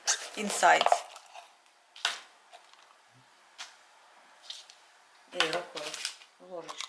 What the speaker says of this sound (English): this is how you cut the pepper to take out insides